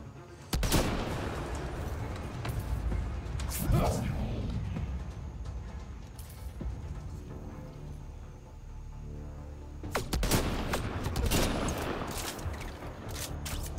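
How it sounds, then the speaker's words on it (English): Gunfire in the video game Mass Effect Andromeda: continuous distant crackling shots and bursts under a dense battle backdrop, fairly quiet overall, with louder clusters near the start and end and voices mixed in. "you do realize we're getting shot at now, right?"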